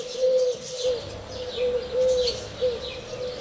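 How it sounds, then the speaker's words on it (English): Collared doves coo from a village square by a lake in northern Greece, a rhythmic series of soft repeated calls at moderate distance over faint background chirps and ambience. "the calls of amorous collared doves"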